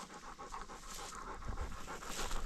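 A hunting dog pants steadily in hot weather outdoors, quick close breaths repeating in a continuous rhythm with no talk over it.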